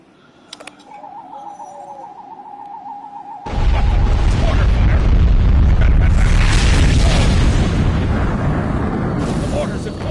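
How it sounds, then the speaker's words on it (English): Mortar blasts closing off a mountain pass: after a faint electronic tone and quiet ambience, a sudden loud, deep boom swells into a sustained rumbling roar that fills the rest of the scene. "The mortars have closed off the pass."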